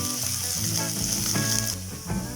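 Onions fry in hot oil in a pan for fish fried rice, giving a loud, continuous sizzle with no pause and no talking.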